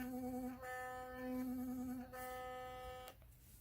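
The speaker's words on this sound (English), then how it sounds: "So when you're brushing and you push too hard, you can hear that difference, and you see it starts beeping over there" Philips Sonicare electric toothbrush pressure indicator beeping while brushing, a steady electronic tone that shifts pitch in three or four stretches over the motor's whine, close and alone.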